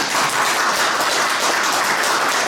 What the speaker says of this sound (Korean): 박수 한번 다시 한번 주세요